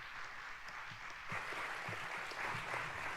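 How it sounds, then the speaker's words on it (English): Conference audience applauding at a national autonomous vehicle day event, a steady wash of clapping that swells slightly midway and continues evenly throughout. "Let's give them a round of applause."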